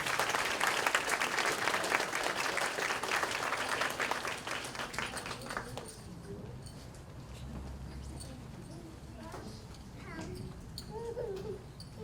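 An audience at an elementary school kindergarten celebration applauds, the clapping dense and moderately loud at first, then fading out after about six seconds, leaving faint room noise and scattered children's voices.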